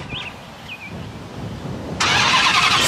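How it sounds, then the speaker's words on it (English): A Chrysler 300 Redeye's engine cranks and fires, bursting into a loud, steady idle after a couple of faint chirps in a quiet garage. "but I think for the front, you gotta start the car."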